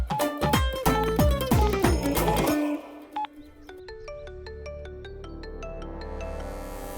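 A phone dials a number with a quick run of keypad tones, then a repeating electronic ringing pattern starts and continues steadily, fairly close and clear, with no voices over it.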